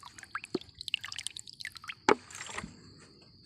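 Acid dripping into a cup of rubber latex, heard as scattered small drips and splats with one sharper, louder splash midway, close and alone with no talking.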